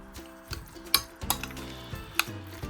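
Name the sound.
mixing guacamole with black pepper in a bowl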